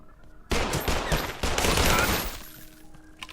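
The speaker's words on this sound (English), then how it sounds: "I find the shotgun works wonders for most of these fights." Shotgun blasts roar in the video game Garage Bad Trip: a loud, dense barrage of gunfire bursts in suddenly and rages for about two seconds before fading to quiet.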